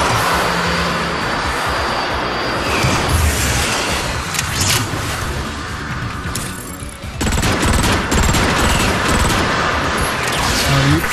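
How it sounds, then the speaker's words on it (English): Steady gunfire and rapid explosive bursts from a Transformers Fall of Cybertron deathmatch, dense and loud throughout with bangs and machine-gun rattle layered together. "Who are you shooting at?"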